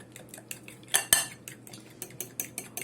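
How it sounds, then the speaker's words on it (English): A fork whisking powdered nutritional drink mix in a small blender cup, giving light, quick clinks and scrapes with one louder clatter near the middle, close and alone. "Notice I'm whisking it with a fork, breaking down those powder pieces."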